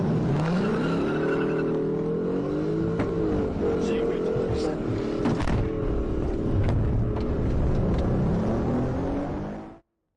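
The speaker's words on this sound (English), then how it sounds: "the driver suddenly accelerated and fled the traffic stop" A car engine revs hard and accelerates, loud and close, rumbling steadily before cutting off abruptly as the driver flees a police traffic stop. Voices can be heard underneath.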